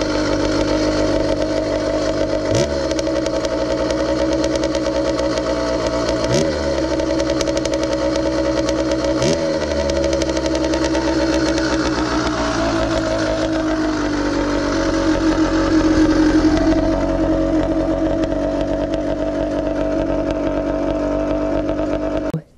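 A two-stroke motorbike engine, running slightly lean, idles steadily and is blipped with the throttle several times, each sharp rev rising and falling back to a loud, continuous idle.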